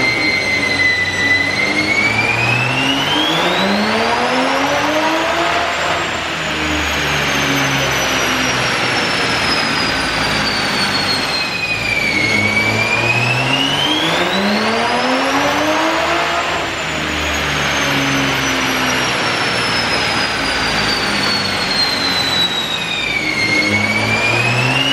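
A Toyota Supra MKV with a pure turbo and methanol injection runs on a dyno in two full pulls. The engine note climbs steadily to a high rev with turbo whine, then drops, loud and close, with no talk.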